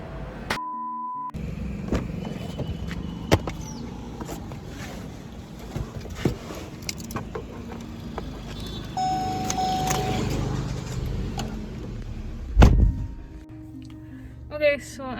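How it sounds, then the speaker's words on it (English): Car interior on a sunny day while driving, a low steady rumble of the engine and road with occasional clicks and thumps, and a person speaking over it. "so I am in the car."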